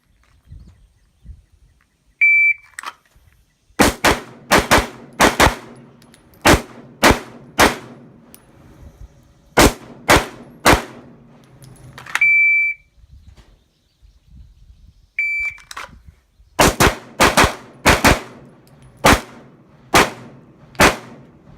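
Sharp, loud pistol shots at an outdoor shooting range fire in quick strings of several rounds, each string preceded by a short electronic timer beep, with brief pauses between the strings.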